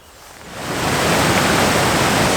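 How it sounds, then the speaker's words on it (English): Skelwith Force on the River Brathay, swollen after heavy rain, roars as a raging waterfall, a dense continuous rushing that swells up within the first second and then holds loud and steady, with no voices. "you soon come to a waterfall called Skelwith Force. Now, as we've had so much rain recently, it is absolutely raging"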